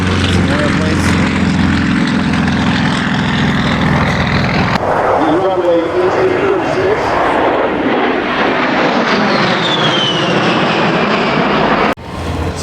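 Propeller airplanes roar past at the Oshkosh airshow, a loud continuous engine drone with shifting pitch as aircraft fly by close overhead, crowd noise and voices mixed underneath.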